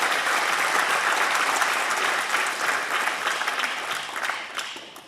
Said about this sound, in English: Yes, give them a round of applause.